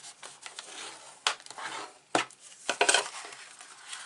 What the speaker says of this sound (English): So, long side, score at 2 1/4, fold,